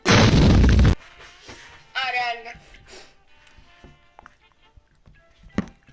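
A video game explosion hits as a loud, booming burst right at the start and then cuts off, followed by people talking over quieter game sounds.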